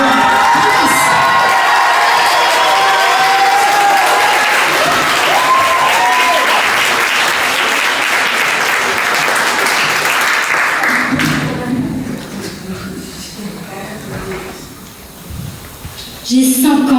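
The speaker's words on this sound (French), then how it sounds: "S'il vous plaît, un maximum d'applaudissements pour Chiara." Loud applause and cheering from a school audience at a Paris eloquence contest between collèges, dense clapping with whoops and children's shouts that fades after about eleven seconds into quieter murmuring before a sudden louder burst near the end.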